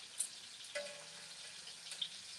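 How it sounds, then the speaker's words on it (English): Food sears in a hot pan with a faint, steady sizzle and a few soft clinks of cookware. "I know you can hear it. So we just frying those up."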